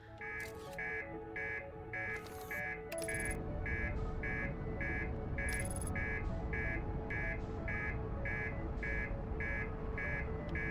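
In the video game Outer Wilds, a loud electronic beep pulses in a fast, even rhythm, repeating over and over on top of a dense rumbling drone, with a few brighter bursts early on and no talk.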